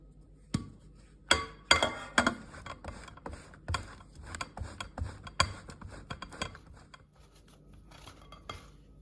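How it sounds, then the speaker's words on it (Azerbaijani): Butter grated on a metal grater for apple cookie dough, an uneven run of sharp scraping strokes and clicks, close and fairly quiet, thinning out toward the end. "İndi isə yağı tyorkadan keçiririk."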